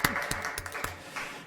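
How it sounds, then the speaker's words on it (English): A few scattered claps at a school board meeting, brief and uneven, fading out within about a second in a quiet room. "he deserves a round of applause"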